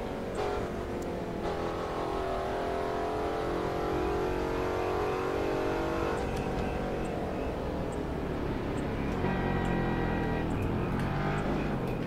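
In The Crew 2 racing game, a car engine holds at the rev limiter with a strained, buzzing whine for several seconds, then drops and picks back up, loud and steady, with no talking.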